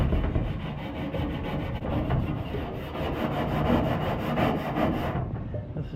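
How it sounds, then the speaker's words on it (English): A soft bristle brush scrubs rusty metal during molasses rust removal, giving repeated rough back-and-forth rubbing strokes that are close and fairly loud. "This is just a soft bristle brush."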